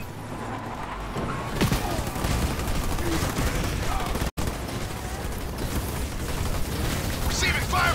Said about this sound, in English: Receiving fire from ground troops!